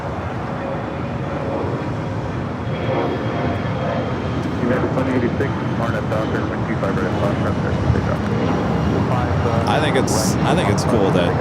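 A SkyTeam airliner at LAX airport rumbles loudly and steadily in the distance, its roar building slightly over the span while people chat over it.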